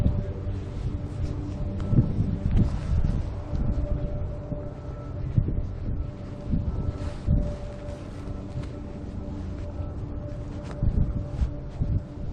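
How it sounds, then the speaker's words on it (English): Steady low rumbling wind buffets the microphone throughout, with gusty swells and a faint tonal hum underneath. "it is a little bit windy."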